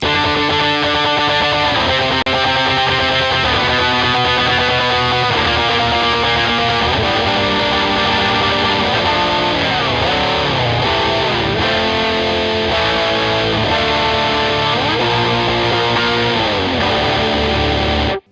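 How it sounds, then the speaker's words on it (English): Electric guitar played through overdrive distortion, thick sustained chords shifting steadily for about eighteen seconds, loud and alone with no voices. "Pretty standard distortion sound for a chorus that I use."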